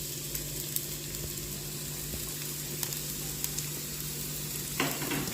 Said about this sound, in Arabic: هلا بنضيف البصل،